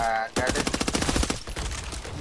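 Rapid automatic gunfire in Back 4 Blood, a steady fast-paced string of loud close shots fired while running, after a brief pause at the start.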